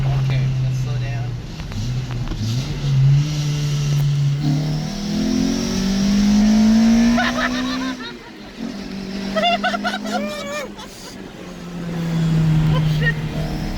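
Intake roar of a Toyota MR-S with a swapped-in 2ZZ-GE engine, rising and falling through hard acceleration runs heard from inside the car, loud and continuous, with excited voices talking over it.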